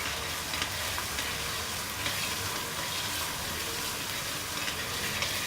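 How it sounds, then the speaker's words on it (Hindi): Ginger garlic paste and onions sauté in a karahi with a dense, constant sizzle that stays even and close throughout, with no talking. "अब इसको भी थोड़ा सौते होने देंगे।"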